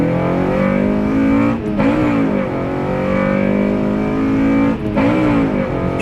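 A 9th-generation Honda Civic Si with a new exhaust being driven, a loud, close engine drone with a raspy exhaust note that drops briefly during two gear changes before it climbs again.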